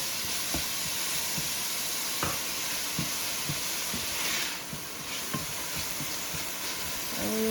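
Onions sauteing with salt in a pot for chicken noodle soup, giving a steady close sizzle and hiss with a few light stirring clicks and scrapes throughout, no voices.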